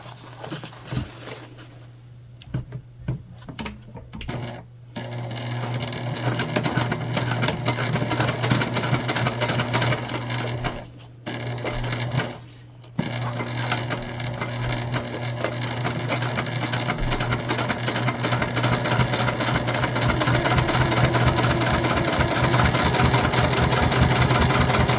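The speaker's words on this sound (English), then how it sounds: "we're gonna do our top stitch right underneath" Sewing machine running steadily while top stitching beneath the zipper and band on the main panel of a crossbody bag, a continuous close mechanical whir with a few brief pauses early on, no talking.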